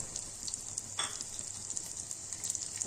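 Chopped almonds and pistachios sautéing in a pan while making kheer, a soft, steady sizzle with a brief stir or scrape partway through, quiet and close.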